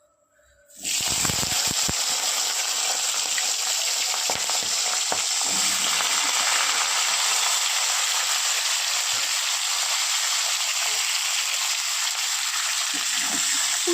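Winter vegetables hit hot oil with dried red chillies and salt, bursting into a loud hiss that settles into a steady, even sizzle, close and continuous with no talking.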